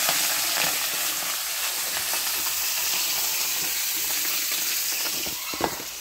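Pieces of pond-raised rohu fish, coated in spice, fry in hot oil in a pan, giving a steady, dense sizzle and crackle, close and continuous, with no voices.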